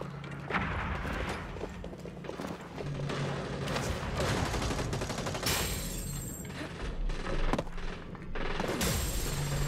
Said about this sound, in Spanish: Yo escucho disparos por aquí